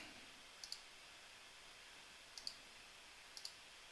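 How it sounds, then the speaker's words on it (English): Computer mouse buttons click in quick pairs, three double clicks spaced across a few seconds, crisp and close over a faint steady hiss, with no talking. "I'm clicking on all the wrong things."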